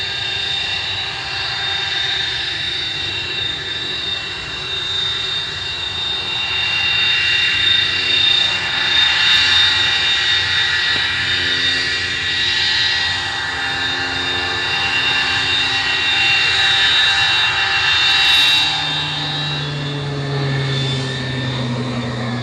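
Avro Vulcan jet engines roar through takeoff with a loud, steady, sustained rumble topped by a high whine, which builds slightly midway and holds with no talking.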